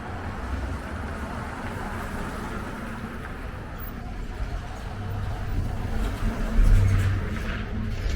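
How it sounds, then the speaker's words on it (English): Steady road traffic rolls past on a busy downtown street in Beverly, Massachusetts, a continuous mid-distance rumble of cars with a slightly louder vehicle swelling near the end. "Traffic does get a little busy on this road"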